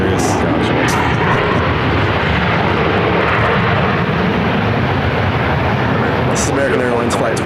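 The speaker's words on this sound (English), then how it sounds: "This is American Airlines Flight 2404 coming in from Charlotte." An American Airlines Airbus A321 jet airliner arriving from Charlotte at Phoenix airport roars loudly and continuously, its engine noise filling the whole stretch, with faint radio chatter and talk underneath.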